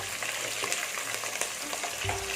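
Garlic and green chillies fry in hot oil for a fish curry, giving a steady, close sizzle with faint stirring scrapes throughout and no talking.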